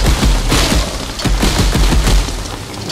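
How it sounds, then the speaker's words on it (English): Rapid gunshots in a VR shooting gallery game, loud close bursts of booming shots fired in quick succession throughout. "I'm just shooting everything"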